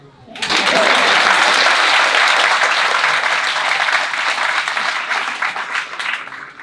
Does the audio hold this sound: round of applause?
yes